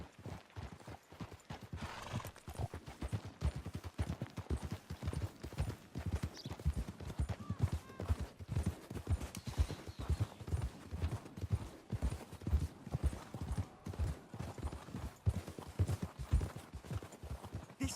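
Horse hooves clip-clop in a steady walking rhythm throughout a Red Dead Redemption 2 ride, close and distinct, with several horses moving together and no talk over them.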